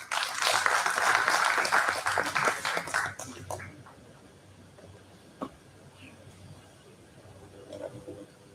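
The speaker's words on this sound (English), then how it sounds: "please welcome Dr. Sanjeev Kumar Sinha with a big round of applause." Audience applause welcoming a speaker at a national seminar, loud dense clapping for about three seconds that fades into quieter room noise with a few scattered claps.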